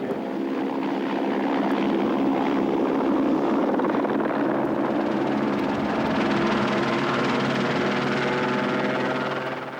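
A steady, loud rotor and engine drone of a helicopter in flight over the 1995 Granada–Dakar rally route, continuous throughout with a constant low hum and no voices.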